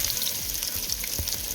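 Garlic hits hot oil with a bright, crackling sizzle, close and steady, with light popping and stirring over a brief stretch and no voices.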